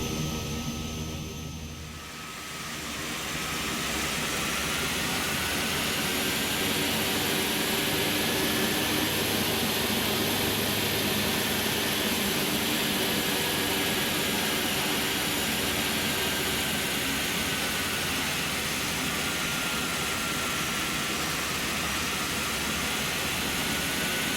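Milviz PC-6 Turbo Porter turboprop engine taxiing in the Prepar3D flight simulator, heard from outside the aircraft: a steady, loud engine drone that dips briefly near the start, then holds an even, continuous roar.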